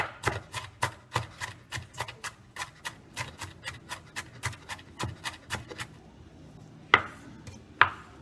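An onion is finely chopped with a knife on a board, a steady run of about twenty quick, even strikes, close and distinct, followed by a pause and two heavier isolated knocks.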